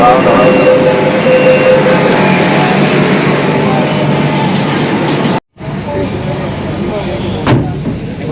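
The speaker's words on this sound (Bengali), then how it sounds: "এবারে ট্রেন চলবে।" A metro train at Howrah Metro station starts to move and rumbles steadily with a broad, loud roar; after a short break the noise continues, with faint voices nearby.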